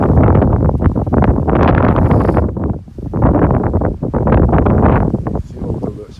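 Wind buffets the microphone in heavy, rumbling gusts outdoors near a church in St. Philip, Barbados, with a brief lull midway before the blustery roar returns.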